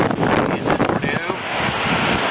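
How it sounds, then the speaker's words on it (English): Strong wind from Tropical Storm Andrea roars and buffets the microphone on Captiva Island, a loud continuous rush with gusty swells over surf-like noise. "This wind's got to be 50 at least. Maybe more than that."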